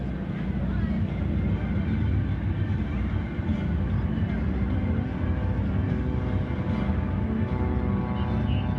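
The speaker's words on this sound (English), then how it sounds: "The T-6 Texan again, the SNJ, one of the great aircraft from World War II" A North American T-6 Texan (SNJ), a World War II trainer, drones steadily overhead at an airshow, its engine a continuous rumbling roar throughout with wind buffeting the microphone.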